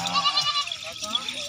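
Goats bleating on a goat farm, several overlapping calls in a steady run, fairly close and moderately loud, with voices of people talking mixed in throughout.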